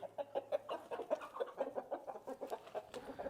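Several chickens cluck steadily in a barn during evening feeding, a busy rhythmic run of soft clucks close by with no talking.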